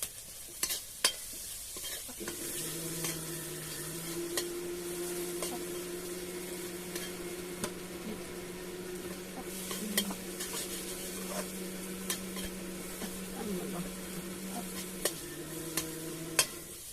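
Onions sautéing in a pan with steady stirring, a continuous sizzle and frying hiss running throughout, broken by occasional sharp clicks and scrapes of a utensil against the pan, close and fairly loud with no talking.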